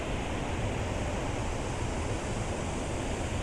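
A waterfall roars nearby in a steady, dense rush of falling water, loud and unbroken, with no voices.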